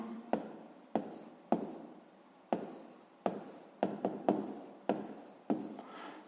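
Pen strokes scratch across a school maths notebook in a quiet room, coming in repeated short bursts with brief pauses between them, close and clear with no talking.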